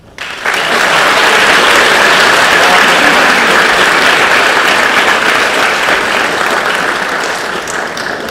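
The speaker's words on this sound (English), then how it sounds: "I think we do more clapping tonight than any other event" An audience at a school awards and scholarship night bursts into loud, sustained applause, dense clapping rising quickly and holding steady before easing slightly at the end.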